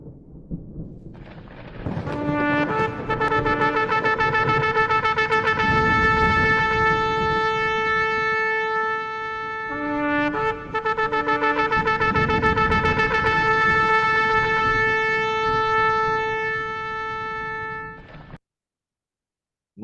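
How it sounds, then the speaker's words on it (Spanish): Shofar or trumpet sounding a teruah, a repeated alarm call: loud sustained brassy blasts broken into short staccato bursts, with a brief break midway before the call resumes, then ending abruptly. "allí tenemos el sonido del teruá"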